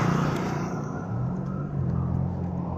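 A family car's engine near the River Queen Hotel in Iloilo gives a steady, close rumbling drone that holds at an even level throughout, with no voices over it.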